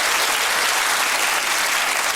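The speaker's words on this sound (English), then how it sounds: "You see, Boris, that's what clapping sounds like." A studio audience on a British TV panel comedy show claps steadily, a dense, loud round of applause holding for about two seconds with no voices over it.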